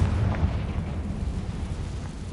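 Explosion from the Confringo blasting spell in a game, a dull low boom that lingers briefly as a rumbling burst.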